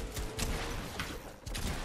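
Gunfire in a competitive shooter video game: several sharp bursts of shots crack at irregular intervals over a dense, noisy game mix, moderately loud throughout.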